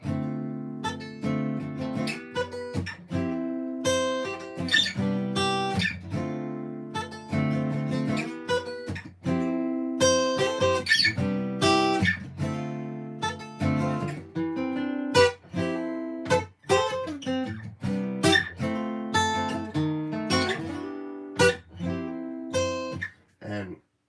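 A guitar strums a simple 1-2-3-4 chord progression, clean and close, each chord struck in a steady rhythm and repeated.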